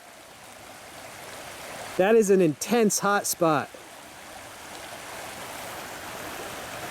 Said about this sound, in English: The water is flowing strongly.